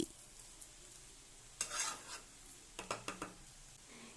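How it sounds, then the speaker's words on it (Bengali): Sugar being stirred into coconut vermicelli in a pan, with a faint background hiss and a few scattered scraping strokes and light clinks of a spoon against the pan, quiet and close. "1/2 কাপ চিনি দিয়ে ভালোভাবে নাড়াচাড়া করে মিশিয়ে দিচ্ছি"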